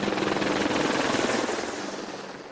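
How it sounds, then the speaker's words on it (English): Apache military helicopter passing overhead during a Remembrance silence in an English town, a loud continuous rotor roar that holds steady and then slowly fades, with no talk. "The haunting sound of an Apache helicopter breaking the silence."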